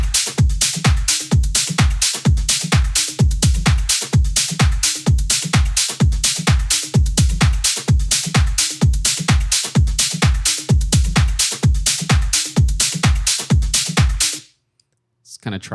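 Layered electronic drum loop of hi-hats, kick and claps in a steady, driving pattern, loud and punchy with deep kick thumps and crisp upper hits repeating for about fourteen seconds before cutting out.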